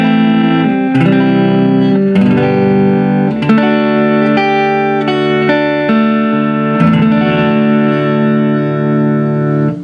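Telecaster electric guitar on its back pickup, played dry through an amp: a loud, bright run of picked notes and ringing chords that sustain and overlap, with no talking.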